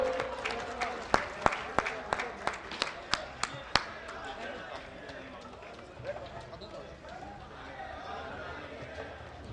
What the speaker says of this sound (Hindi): कृपया जोरदार तालियों से इनका स्वागत।